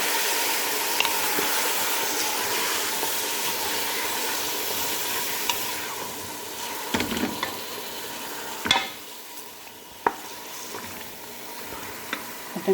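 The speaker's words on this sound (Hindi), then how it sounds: "मटन को 2-1 मिनट भूनेंगे।" Mutton frying in a pan with garlic ginger paste, a continuous sizzle that softens over time, broken by occasional stirring clacks and scrapes.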